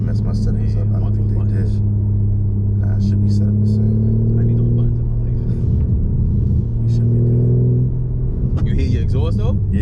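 A BMW G82 M4 exhaust rumbles at a deep, steady idle, close and loud, swelling slightly in the middle while voices talk over it.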